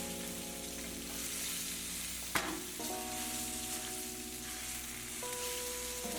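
Prawns fry in oil in a saucepan with a steady, gentle sizzle that carries on throughout. A single sharp clink sounds partway through, and a low hum runs underneath.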